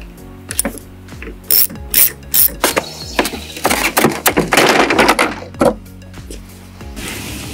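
Ratchet working bolts loose from the bumper housing of a Chevy Corvette C7 Stingray, rapid clicking pawl bursts in uneven runs with occasional metallic clunks, close and loud, then quieter toward the end.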